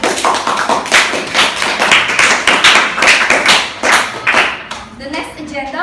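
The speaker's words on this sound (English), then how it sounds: "Please give a round of applause for the speaker." An audience applauds a speaker at a formal event, loud close clapping in bursts that fades near the end as a voice comes in.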